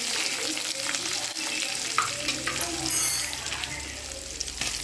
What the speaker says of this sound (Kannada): ಈಗ ಜೀರಾ, ಕಾಯಿ ಮೆಣಸನ್ನೆಲ್ಲ ಹಾಕಿದ್ದೀನಿ. ಸ್ವಲ್ಪ ಫ್ರೈ ಆಗಲಿದೆ.